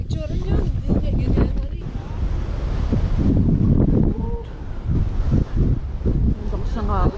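Strong wind buffets the microphone on Mt Marami during a night hike, a loud steady roar that runs through the whole stretch while several people talk and call out over it.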